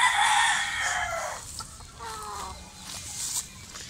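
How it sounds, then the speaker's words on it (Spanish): A five-month-old white chicken, a young cross from a white hen, clucks and calls in short bursts close by, with a brighter run of calls at the start and quieter clucks afterward. "5 mesecitos tiene este pollito."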